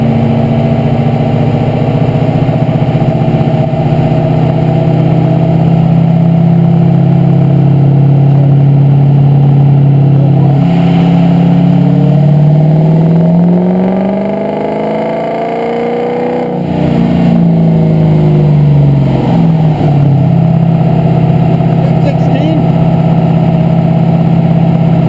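A sled pull diesel truck engine on a dyno roars loud and close, holding a steady high drone, then winds down briefly and climbs back to a sustained rev.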